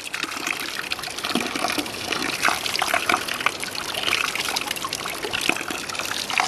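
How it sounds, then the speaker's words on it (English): Sulfur-smelling mineral spring water trickles and splashes steadily into a stainless steel fixture at an outdoor spa park in winter, a continuous close, bright pouring sound. "There it is, that stinky water."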